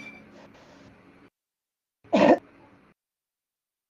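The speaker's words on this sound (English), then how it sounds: "we can hear your cough" A single person coughs once, sharply and fairly close, after a stretch of faint background murmur, followed by quiet.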